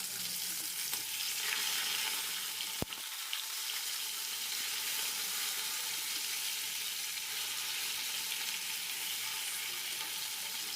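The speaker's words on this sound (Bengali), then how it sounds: "এই মাছের মাথাগুলোকে হাই হিটে ভালোভাবে লাল লাল করে ভেজে নেব।" Salted, turmeric-coated fish heads fry on high heat for a yellow split gram dish, giving a loud, steady broadband sizzle throughout, broken by one sharp clack of a utensil near the start.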